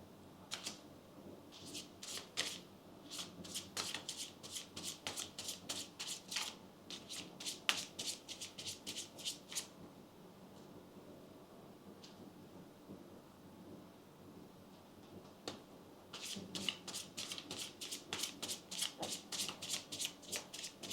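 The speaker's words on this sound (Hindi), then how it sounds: "let's shuffle your cards now." Tarot cards being shuffled by hand: quick papery riffles and flutters in dense bursts, pausing in the middle before a second run of close, crisp shuffling.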